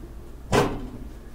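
The cabinet door on a NUUK 42-inch outdoor BBQ cooking work table closes with a single brief, soft thump and rattle, standing alone against quiet background noise.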